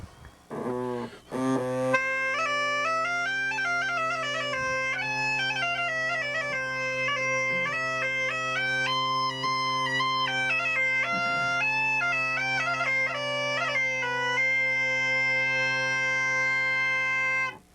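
Bagpipes play a winding melody over a steady, unbroken drone, loud and continuous for a long stretch, with no talking.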